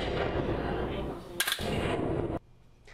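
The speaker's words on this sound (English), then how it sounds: "they were able to experience handling and shooting a handgun" Handgun fire at a mobile shooting range during a women's firearm safety demonstration: a couple of sharp shots around the midpoint, with crowd murmur and background noise before and after.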